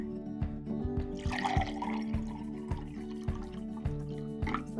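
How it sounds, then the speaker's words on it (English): Water runs and trickles into a glass of ice water, a steady liquid pour with light splashing, set over a repeating low background beat. "And then we're going to fill the other glass with ice water."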